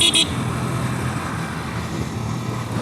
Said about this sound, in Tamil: ஐயோ மறுபடியும் டிராஃபிக்.